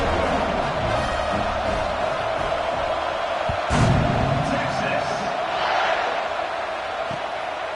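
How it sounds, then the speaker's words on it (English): A football stadium crowd buzzes steadily after a score, with a rising swell of cheering partway through and a commentator talking over the constant roar. "this crowd is buzzing after that last score"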